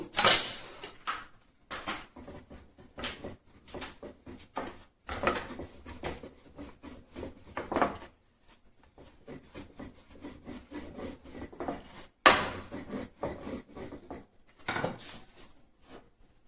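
Flatbread dough for dal rolls is rolled thin with a rolling pin on a floured surface, giving repeated soft rubbing and rolling strokes with occasional knocks and clatters, fairly close and unaccompanied by talk.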